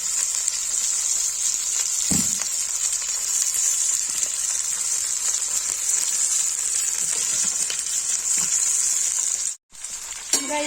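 Lotus stem (nadru) frying in a pan for a Kashmiri spinach curry, a loud, even sizzle that runs steadily with a few faint clinks, then cuts out briefly near the end before resuming.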